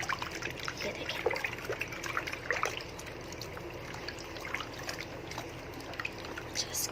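Warm water trickles and dribbles steadily while a pet's feet are washed with a brush, a soft continuous wet sound close by with faint talk in the background.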